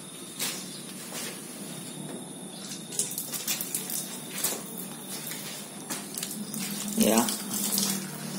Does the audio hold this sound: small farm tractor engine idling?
no